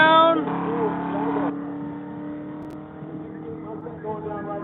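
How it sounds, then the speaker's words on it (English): Ford Mustang race car on a track, a revving engine note that drops off and fades into a lower, more distant drone, with a voice talking over it. "Mustang going down."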